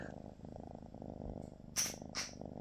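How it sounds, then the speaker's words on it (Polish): A cat purrs close by in a steady, low, pulsing rumble that runs the whole time, with two brief brighter rustling bursts near the end and no talking. "O, mruczy."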